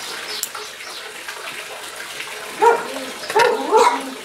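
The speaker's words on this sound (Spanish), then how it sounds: "que mis perros se callen y cierren el hocico" Dogs bark in a backyard during a juniper shohin bonsai styling session: a few sharp barks toward the end, mid-distance, over a quiet hiss of background noise, no talk.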